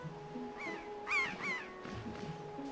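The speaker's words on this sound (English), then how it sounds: "She keeps attracting seagulls." Seagull-like caws from The Legend of Zelda: The Wind Waker HD, several bright squawking calls in quick succession over a steady game music drone, moderately loud and close.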